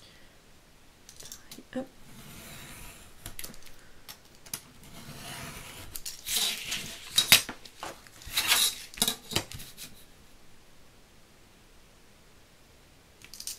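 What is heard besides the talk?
cutting paper card with scissors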